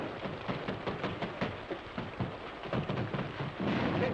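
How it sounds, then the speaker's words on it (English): Rain pours steadily in an old western film scene, a dense hiss with repeated low rumbling thunder bursts rolling through, and nobody speaks during it. "Holy smokes, it's raining."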